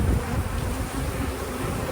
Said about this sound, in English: there's just so many bees. They're going crazy.